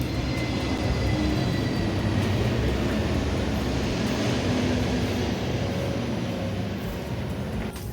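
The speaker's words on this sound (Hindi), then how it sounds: "हवाई जहाज आ गई, 1 मिनट।" An airplane passes overhead near a student gathering, a loud, steady broadband roar that holds through the whole stretch with no voices.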